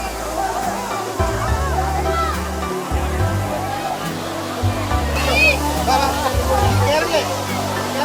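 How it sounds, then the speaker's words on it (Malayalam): Areeckal waterfall in Piravom, Ernakulam, pours with a constant broadband rush while several people talk and call out nearby over the water. "എറണാകുളം ജില്ലയിലെ പിറവം പാമ്പാക്കുട പഞ്ചായത്തിലാണ് ഈ അധികം ആരും അറിയില്ലാത്ത ഈ വെള്ളച്ചാട്ടം സ്ഥിതി ചെയ്യുന്നത്"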